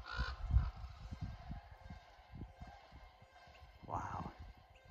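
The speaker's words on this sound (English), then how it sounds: "They sound like geese, but they're not. Those were not geese. That's the sandhill cranes." Sandhill cranes call near Yellowstone Lake with honking, goose-like bursts, a loud cluster at the start and another call near the end, amid low background noise and some speech.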